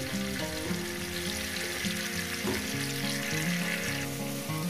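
Spices with turmeric frying in hot oil for a fish curry, a steady close sizzle with soft bubbling and occasional stirring scrapes throughout, no talking.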